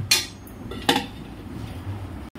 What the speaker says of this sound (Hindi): कढ़ाई को साफ कर लेंगे।